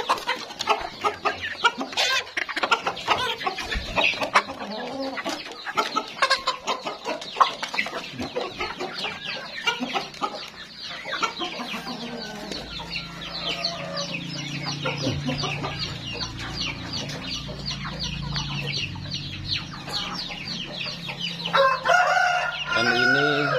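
A busy flock of chickens clucks constantly in a coop while a rooster crows loudly nearby, the farmyard noise steady throughout.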